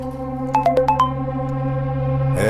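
A phone rings for a video call, a short burst of five or six quick electronic chime tones over a steady hum, then a brief rustle.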